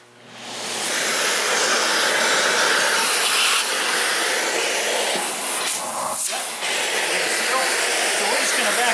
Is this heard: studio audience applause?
no